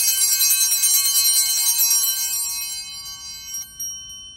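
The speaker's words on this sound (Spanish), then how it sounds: "Cuando estás hincado, vas a escuchar una vez esa campana." A single altar bell rung loudly during Mass at the epiclesis, its bright metallic ring chiming repeatedly as a cluster of shaken strokes before decaying over a few seconds, heard alone without speech.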